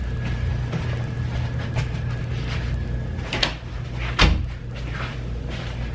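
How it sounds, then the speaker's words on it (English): A door is shut indoors, giving a single soft, low thud against quiet room noise, with a faint knock or bump a moment before it. "First, I'm gonna shut the door"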